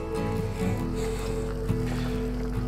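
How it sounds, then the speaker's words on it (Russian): An Amur-2M motor boat sits on a river, its engine giving a steady low rumble with water sloshing and wind noise, continuous and close. "Все, катер на воде."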